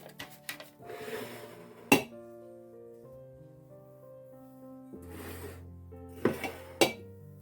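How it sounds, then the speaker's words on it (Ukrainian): Aspirin tablets drop into glass jars of peppers being preserved, producing scattered sharp clinks and a few bright ringing glass tones with quiet gaps between them. "І тепер я їх буду висипати в кожну банку."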